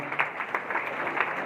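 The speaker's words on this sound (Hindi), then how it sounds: "जोरदार तालियां बजाकर" An audience at a spiritual gathering in a hall claps in welcome, a steady, fairly loud patter of applause with no talk over it.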